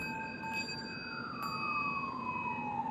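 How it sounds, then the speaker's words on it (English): A steady, wailing emergency siren with its pitch slowly gliding downward, continuous and fairly distant, with no voices present. "Hear the sirens?"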